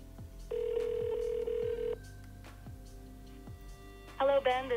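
An outgoing phone call to an AI voice agent: a steady ringback tone sounds for about a second and a half and then stops, followed by quiet clicks and a short burst of speech at the end.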